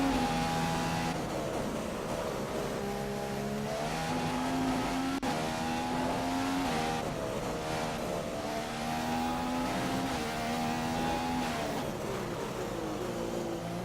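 Jenson Button's Formula 1 car screams through a flying lap in the F1 2015 video game at Australia, with loud, continuous high-pitched engine howl rising and dropping through gear changes, close and dominant with no talk.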